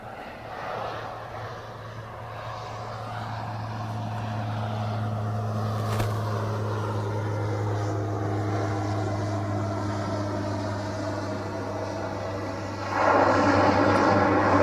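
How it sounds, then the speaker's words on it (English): A propeller plane lands at Katmai National Park, its steady droning engine building from moderate to loud and close, with a sharper surge of noise near the end. "So it's going to get noisy here in just a second. This plane is landing."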